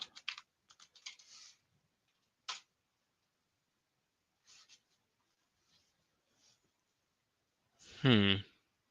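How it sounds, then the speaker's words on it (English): Typing on a computer keyboard, a few scattered quick bursts of clicks spread through the stretch with quiet gaps between, close and fairly soft, followed by a louder brief burst near the end. "Guess I'll just have to type it."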